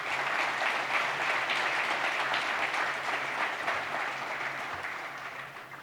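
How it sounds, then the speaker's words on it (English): Sustained audience applause at a public safety symposium opening ceremony, a steady wash of many hands clapping that holds for several seconds and tapers slightly at the end. "Can we please give him another round of applause?"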